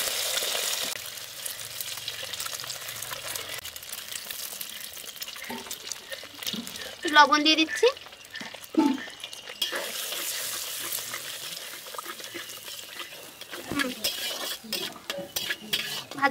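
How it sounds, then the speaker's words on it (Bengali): Three eggs fry in white oil in a wok for an egg chowmein, a steady hiss with stirring and scraping that peaks midway, while a voice talks over it. "ডিম 3টেকে এখন ভেজে নেব"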